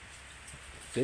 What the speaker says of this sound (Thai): ฝนตกอยู่ครับ